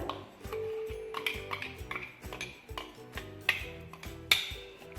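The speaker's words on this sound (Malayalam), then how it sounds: "നമുക്കിനി ഒരു ബൗളിലേക്ക് മാറ്റാം" Chutney being scooped from a grinder jar into a bowl, with a steady run of spoon and utensil clinks and scrapes, close and fairly loud, and no talking.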